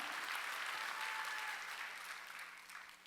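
A congregation at a Wednesday church worship service breaks into full applause, a dense, continuous roar of many hands that fades slightly toward the end.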